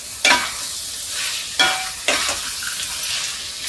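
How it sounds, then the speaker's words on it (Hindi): Spice paste with Kashmiri red chilli powder sizzling in a pan with a few sharp stirring scrapes, steady crackle underneath, close and moderately loud, no voices. "अब मसाला को हम भून लेंगे।"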